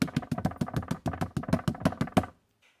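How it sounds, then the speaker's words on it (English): A homemade bass drum struck with spoon beaters gives a quick, steady run of about fourteen close, dull knocking thumps, then stops abruptly. "Place your bass drum in front of you and play."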